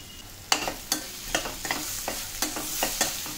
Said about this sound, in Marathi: मसाल्यात जरा थोडा वेळ असं परतून घ्यायची.